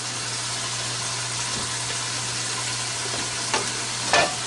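Oil heats in an already hot frying pan, giving a steady close sizzle and crackle throughout, with a faint low hum beneath it and a couple of brief clinks near the end.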